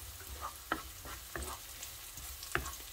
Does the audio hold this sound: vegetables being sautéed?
yes